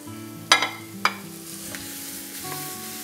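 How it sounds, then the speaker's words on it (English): Beef mince dropped onto softening onions in a pan, two sharp clattering knocks followed by a steady close sizzle with soft stirring scrapes. "So when the onion has started to soften, I'm going to add the mince to the pan."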